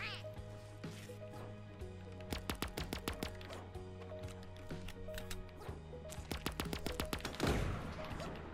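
Sniper rifle gunfire in Super Animal Royale cracks out in a series of sharp, separated shots, clustered in two bursts, under a speaking voice and steady game music.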